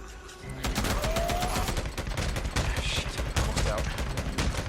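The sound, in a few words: gunfire in video game Days Gone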